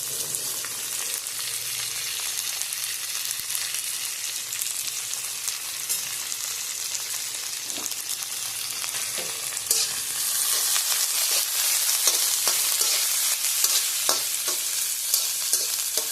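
Onions sizzle steadily in a frying pan, with scraping stirs growing more frequent and slightly louder in the second half; no one talks.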